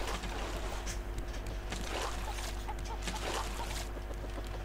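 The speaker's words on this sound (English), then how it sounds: "Oh, I see 2 chickens." Two chickens in the survival game Raft cluck in a few soft bursts near the middle, over a steady loud wash of ocean water and low ambient hum around the raft.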